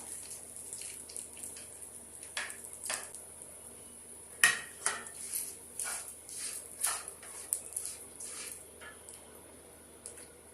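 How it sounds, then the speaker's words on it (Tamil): A cup of rice is added to a bowl and mixed for fruit curd rice, giving a series of close, irregular clinks and scrapes of a spoon against the dish, with soft rustling between them and no talking. "இப்போ இந்த 1 கப் ரைஸ் எடுத்து வச்சுக்கிறோம், அந்த ரைஸ் சேர்த்துக்கலாம்"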